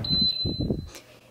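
A Cosori electric pressure cooker gives a single high electronic beep as it is plugged in, a thin steady tone held under someone talking nearby in a home kitchen.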